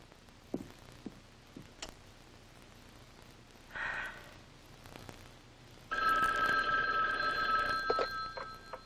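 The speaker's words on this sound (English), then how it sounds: "It's been ringing and ringing, and there's nobody to answer." A telephone bell rings in a 1974 film scene, starting faintly and then ringing loud and sustained near the end, with scattered soft knocks and movement noises before it.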